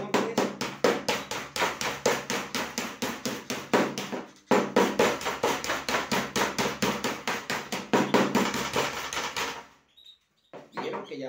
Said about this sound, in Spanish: Tomamos un martillo o un martillo de goma, puede ser.